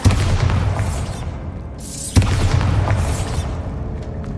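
Two heavy booming blasts from the Bombarda spell in Hogwarts Legacy, each a sharp hit trailing into a rumbling roar, the second arriving about two seconds after the first.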